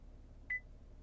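A single short electronic beep from a Cadillac XT5 instrument cluster confirms the oil life reset, clear and brief against a quiet cabin hum.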